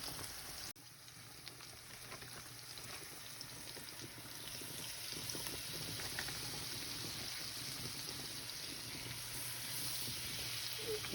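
Floured liver pieces frying in a pan with onions give a soft, steady sizzle that continues evenly throughout, fairly quiet with no talking.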